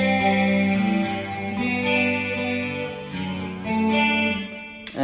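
A 2019 Ernie Ball Music Man Majesty electric guitar on its magnetic pickup alone plays a sustained melodic phrase, its notes blurred by chorus, delay and reverb into a steady shimmering wash that fades out at the end.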